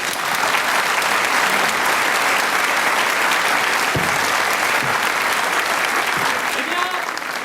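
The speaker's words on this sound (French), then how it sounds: "Nous pouvons les applaudir" Sustained audience applause at a French theatre comedy show, a dense steady wash of clapping from a large crowd lasting throughout.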